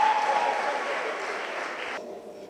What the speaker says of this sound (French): j'invite Andrea Soukama, sous vos applaudissements, s'il vous plaît.